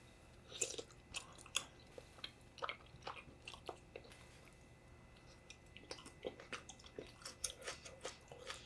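Close, soft chewing of beans in a bowl of malatang mixed with budae jjigae, with irregular wet bites and crunches scattered throughout.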